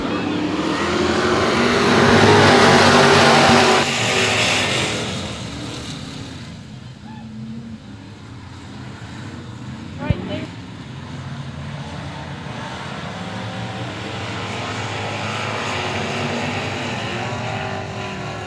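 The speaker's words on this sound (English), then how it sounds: "Green flag. Here we go, stock cars." Stock cars roar around the Cotton Bowl Speedway oval after the green flag, a loud broad engine rush that swells, eases, then builds again, with a public-address announcer talking over the field.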